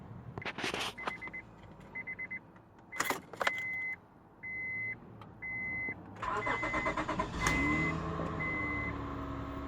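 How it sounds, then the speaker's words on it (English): A Honda Odyssey minivan engine cranks and starts after a few key clicks and repeating door chimes, then settles into a steady idle, fairly close and without talking. "let's start this baby up and see where that noise coming from"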